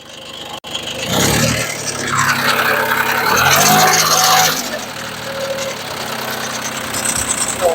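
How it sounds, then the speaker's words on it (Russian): A small diesel engine of an Iseki TU1700 Japanese mini tractor runs steadily up close, its low knocking chug and mechanical clatter continuous throughout, swelling slightly in the middle before settling back. "Работа двигателя."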